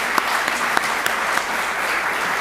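A round of applause from an in-person audience at a global youth entrepreneurship challenge in New York City, a steady wash of many hands clapping with a few sharp claps popping out, full and even throughout.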